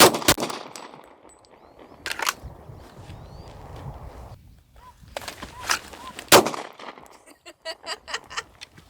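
A handgun is drawn from a pack-mounted attachment and fired outdoors, several sharp loud shots spaced apart with rustling and movement between them, ending in a quicker series of reports.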